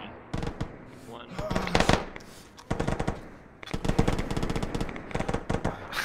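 Rapid bursts of heavy automatic fire from a BTR armored vehicle in the Arma 3 combat game, loud repeated volleys with short breaks, with faint voices in the background.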